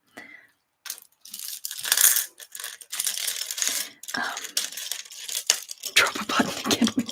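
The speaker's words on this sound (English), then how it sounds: "Drop a button again." A small button drops onto a hard surface in a quiet ASMR setting, giving a few sharp clicks and rattles close up among other soft handling noises and crinkles.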